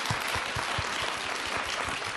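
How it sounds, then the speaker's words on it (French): A short burst of steady audience applause at a Christmas gathering, fairly quiet and even, with individual claps faintly audible in a dense wash. "On peut l'applaudir"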